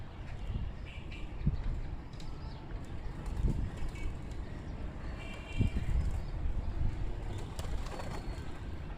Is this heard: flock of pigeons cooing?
yes